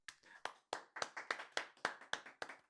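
A single person claps steadily, about ten sharp claps at an even rhythm, close and fairly quiet, with no talking.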